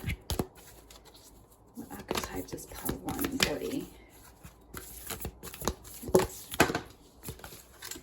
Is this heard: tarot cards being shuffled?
yes